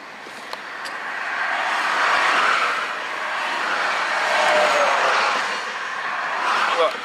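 A car driving past or idling nearby during a roadside police traffic stop, a broad steady engine and road rumble that swells and eases over several seconds, with a voice speaking over it.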